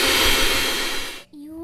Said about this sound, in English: the recipe says to whisk all of these ingredients on high